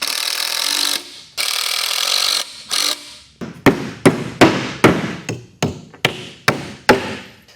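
An old hammer that belonged to a great-grandfather, used while building shelving with 2x8 boards. A few longer grinding or scraping passes come first, then a steady run of about a dozen loud, ringing hammer blows at close range.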